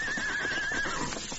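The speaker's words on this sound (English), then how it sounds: "Presently, the sound of hoofbeats reached the Lone Ranger and the cocked ears of his horse." A horse whinnies in a high, wavering call over a dull, thudding background that may be hooves; brief and fairly close, with no talking.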